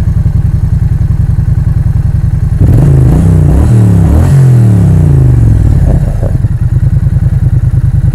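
A 2016 Triumph Street Twin 900cc motorcycle engine idles with a close, loud, even pulse, then is revved hard for a few seconds before settling back to idle.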